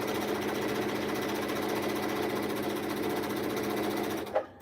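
A sewing machine runs steadily, stitching a quarter-inch seam on a scrappy improv holiday quilt block, with a continuous close whirring hum that cuts off abruptly near the end, followed by a brief click.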